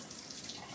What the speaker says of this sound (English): I'm just going to wash my stamp.